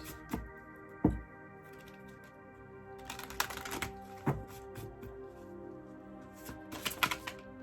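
Tarot cards riffle and flutter in soft, papery bursts with a few sharp taps as they are shuffled, close and fairly quiet, no talking.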